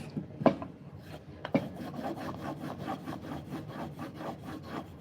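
A file rasps burrs off the edge of a handmade knife in quick, quiet back-and-forth strokes, a couple of sharper scrapes at the start and then a steady rhythmic rubbing, close and alone.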